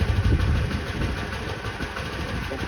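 A 1985 Honda Elite CH150 scooter engine idles steadily and fairly loud, a continuous low rumble with no speech over it.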